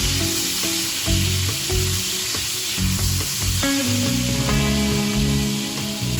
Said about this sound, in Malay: Kemudian boleh kita masukkan bawang bombay dan bawang putih.